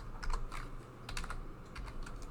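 Fingers type on a computer keyboard in a quick, uneven run of soft key clicks, close and quiet with no voices.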